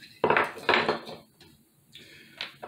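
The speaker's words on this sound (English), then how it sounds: "you can load the wood from the top, put your pieces of wood in there" Pieces of wood loaded into a Coleman tripod camp grill stove, producing a few hollow, clattering knocks and scrapes against the metal, loud at first and then softer, with quiet gaps between them.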